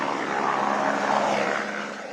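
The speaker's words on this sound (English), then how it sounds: "Helicopters are doing the heavy lifting, bringing stranded people to the nearest army base." A rescue helicopter flies over a flash-flood zone, a loud, steady rotor and engine drone that holds constant throughout with no voices.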